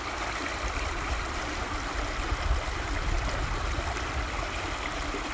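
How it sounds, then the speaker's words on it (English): A stream at an abandoned water treatment works rushes and burbles in a constant, close, fairly loud wash of flowing water with no voices. "this water flowing through this stream"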